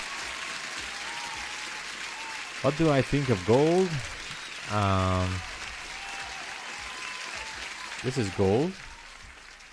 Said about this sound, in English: Let me put an applause for everyone.